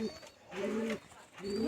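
Domestic pigeons, a pair kept for sale by a breeder in Beldanga, Murshidabad, coo close to the microphone in three soft, rolling phrases with short quiet gaps between them.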